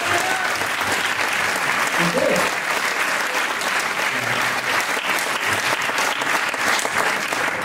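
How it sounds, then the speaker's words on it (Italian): Audience applause for the lyricist at a concert by a town music band in Sorisole, Italy, loud continuous clapping from a hall crowd with a few brief voices mixed in. "un applauso, complimenti"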